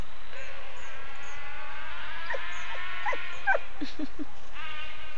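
A small, timid puppy at a dog park gives soft, muffled barks and whimpers while being coaxed into play, several short gentle yelps clustered over steady background noise.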